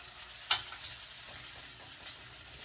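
Teriyaki salmon sizzles in a pot as it is set back in, with a brief sharp hiss at the start settling into a steady, fairly quiet frying crackle.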